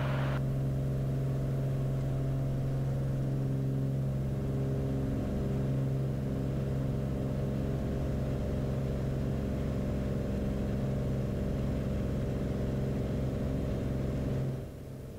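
A Beechcraft Bonanza engine drones loud and steady through the takeoff roll, a constant low propeller-engine roar heard from inside the cabin that holds level before dropping off at the very end.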